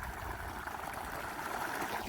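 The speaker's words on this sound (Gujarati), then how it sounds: "આ ધોરિયામાં આપણે ટૂંકમાં પાણી આવ્યું જોઈ લ્યો આ પાણી આવી ગયું છે" Irrigation water runs steadily into a channel in a wheat field, a continuous close rushing and trickling wash that lasts throughout with no other sounds.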